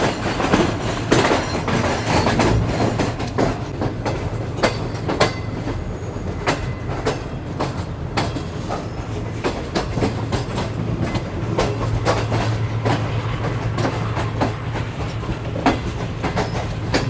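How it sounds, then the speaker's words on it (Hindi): The Shalimar Express rolls along the track approaching Raiwind Junction near Lahore, its wheels beating a steady clickety-clack over rail joints beneath a continuous low rumble, with occasional sharp metallic clanks. "मज़ेदार ट्रैक साउंड के साथ अप्रोच बना रही है जी शालीमार एक्सप्रेस रोडी जंक्शन पर।"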